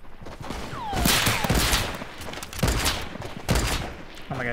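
Sniper rifle gunfire in Fortnite Mobile, several sharp shots about a second apart with trailing echoes and whizzing ricochet tones, loud and alone.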